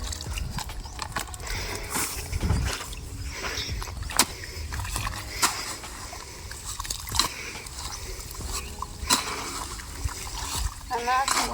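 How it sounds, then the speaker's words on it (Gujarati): Pumped water gushes and splashes steadily into a farm irrigation channel, a dense continuous wash of water that stays loud and close throughout. "પાણી ફૂલમ ફૂલ આવે છે"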